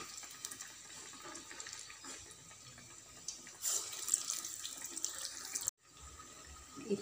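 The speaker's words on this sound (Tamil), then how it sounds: "ஸோ ஆயில் நல்லா சூடானதுக்கப்புறம் நம்ம தட்டி வச்சுருக்கிற வடையை எடுத்து" Beetroot vadas made with ration toor dal deep frying in hot oil in a kadai, giving a steady broadband sizzle and crackle throughout, brighter and louder in the middle with a brief dropout near the end, no talking.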